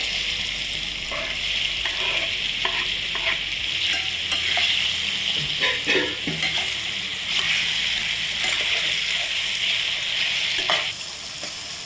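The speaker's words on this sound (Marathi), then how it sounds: "ह्या फक्त आंब्याच्या फोडी आहेत त्या परतवून घ्यायचे आहेत" Raw mango pieces being stir-fried in a pan for a pickle, a steady loud sizzle with scraping stir strokes throughout, no talking.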